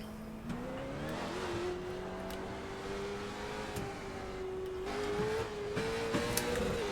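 Late model stock car engines roar steadily in a racing video game lap at New Smyrna Speedway, one engine note climbing and holding loud and near, with other cars droning around it and brief tire scrubs.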